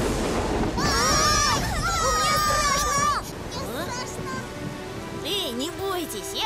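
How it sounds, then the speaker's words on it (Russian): Heavy rain pours with thunder in the children's animated cartoon Tayo the Little Bus, a steady wash of rainfall running under animated voices talking and exclaiming. "Ой, дождь такой сильный, что ничего не видно."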